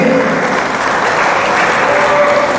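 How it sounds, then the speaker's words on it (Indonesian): An audience at a public talk applauds a speaker, loud sustained clapping from a crowd running continuously with no pause, and a faint voice briefly audible underneath. "Sekali lagi tepuk tangan untuk Mas Said Didu."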